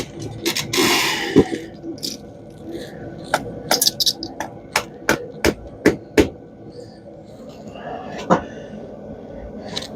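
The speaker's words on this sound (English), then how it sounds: "And if that don't work, we go to the hammer." A hammer repeatedly striking copper scrap, a series of sharp metallic clanks in an uneven rhythm, close and loud, with someone speaking and some scraping early on.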